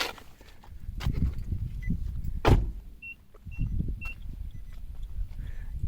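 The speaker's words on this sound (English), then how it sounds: "it just beeped 3 times to let me know that there's something not right" A 4th-generation Nissan Altima 2.5 S beeps three times after the key is pulled out with the ignition still on. The three short, evenly spaced chimes sit faintly over a steady low rumble inside the car.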